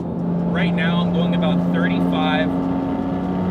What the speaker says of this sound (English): you can see some of that sound that this engine makes